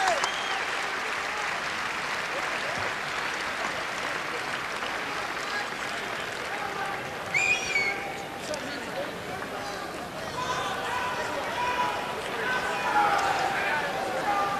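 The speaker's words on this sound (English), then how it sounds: "he'll get some polite applause" Polite applause from a college basketball crowd in an arena at an Oklahoma State versus Iowa State game as an injured player gets back to his feet; steady, moderate clapping continues throughout, with faint crowd murmur.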